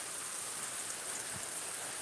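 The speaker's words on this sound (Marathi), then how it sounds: "जबरदस्त पाऊस शेतकरी मित्रांनो दुपारी चार वाजता सुरुवात झाल्या पावसाला" Heavy afternoon rain falls on farmland in Miraj taluka, Sangli district, making a steady, even hiss throughout with no voices.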